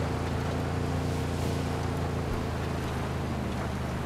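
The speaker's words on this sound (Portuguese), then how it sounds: "Acelera, rapaz. Essa van é lenta." A sluggish van straining to accelerate in Ghost Recon Wildlands, giving off a steady droning engine roar with constant road and wind noise, loud and unbroken throughout.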